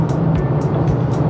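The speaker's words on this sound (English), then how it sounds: "It loves revving all the way and rewards you with a sweet engine note" Mercedes-AMG GLA45s engine under load on the road, with a loud, steady low drone heard from inside the car for a brief moment.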